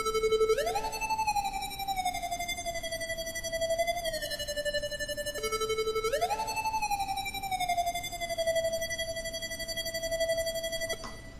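A Buzz Lightyear-style synthesizer lead made in Ableton plays alone, a bright, buzzy tone sliding up and down in pitch in long, siren-like sweeps over a hissy background.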